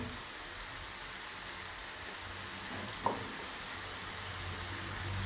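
Prawn roast masala cooking in a pan: onions sautéing with chilli powder, turmeric, pepper and garam masala, giving a steady soft sizzle throughout, close and even, with one brief stir or scrape midway and no talking.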